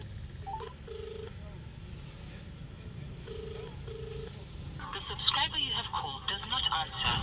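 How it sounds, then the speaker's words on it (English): A phone call is placed from a car, with short dialing tones and beeps followed by ringing signals, while a person talks over the line and road noise hums underneath. "So let me just call her and find out what exactly is happening."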